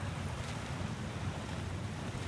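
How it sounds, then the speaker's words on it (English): Water flowing in God of War Ragnarok, a steady, full rushing wash like surf or a strong stream, constant and fairly loud throughout with no talk. "Sounds like you got the water moving along"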